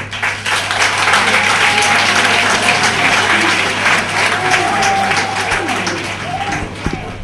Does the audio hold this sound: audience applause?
yes